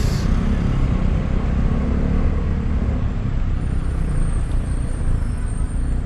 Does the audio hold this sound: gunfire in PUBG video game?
no